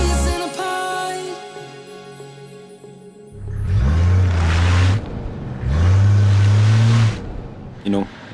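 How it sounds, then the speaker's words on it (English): Toyota Land Cruiser safari vehicles drive in the Maasai Mara, Kenya, with loud rumbling engine passes swelling and fading twice, after a stretch of singing voices. "You know, those Land Cruiser."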